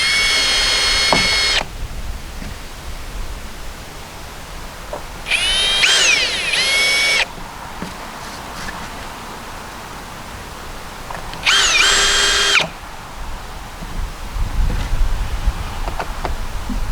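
A power drill drives screws into plastic flat-pack parts in three separate bursts of whirring, each a second or two long, with quiet handling noise between them and no talk.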